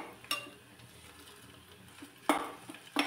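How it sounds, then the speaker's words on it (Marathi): Chopped onion and curry leaves sauté in oil for Maharashtrian masala rice, a faint sizzle broken by a few sharp spatula scrapes and clatters against the pan. "कांदा भाजत असतानाच यामध्ये थोडासा कढीपत्ता घालायचा आहे"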